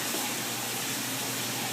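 Hot water pours steadily onto salted mozzarella cheese curds, a close, continuous gushing splash for the whole short stretch with no pauses.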